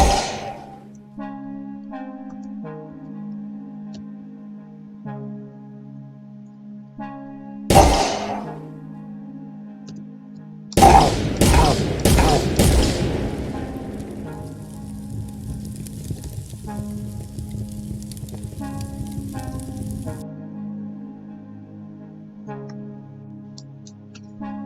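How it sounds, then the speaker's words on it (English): In an Unreal Engine 4 third-person shooter, a grenade explodes with a sharp burst and several quick cracks, then a roaring, crackling fire runs for about ten seconds. Steady tonal game music plays underneath, and one earlier thud is heard. "when the AI bot is killed with a grenade, the AI bot will burst into flames"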